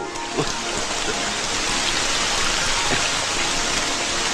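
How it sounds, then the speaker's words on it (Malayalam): Steady rain pours down, a dense continuous hiss of drops on surfaces, close and even throughout, with no voices. "മഴ വരണോന്ന് തോന്നുന്നു. വരുന്നല്ല, വന്നു വന്നു വന്നു വന്നു."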